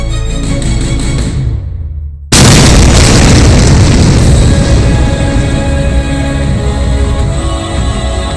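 North Korean ballistic missile test launch: a sudden deafening roar erupts after a brief near-silence and holds as a sustained, broadband rumble, very loud and close.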